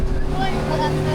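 Motorboat driven by 750 horsepower of engines, a loud close roar with steady low drone and water rush, continuous through the short moment.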